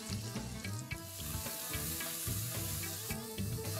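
Chopped onions and chilies are frying in a pan for a Punjabi black dal, making a steady close sizzle with regular scraping stirs of a utensil against the pan and no voices.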